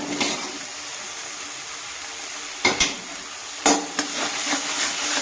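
Chicken pieces with two spoons of sour yogurt sauté in a hot pan, a steady close sizzle broken by two sharper stirring scrapes and a small clink, with no talking.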